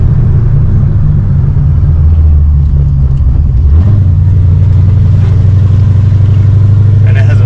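A Cadillac CTS-V engine with a BTR Stage 3 NA cam idles with a deep, lumpy, loping rumble, holding steady and then shifting slightly in pitch, loud and close throughout.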